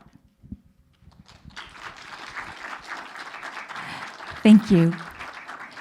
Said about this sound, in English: please welcome them with a warm round of applause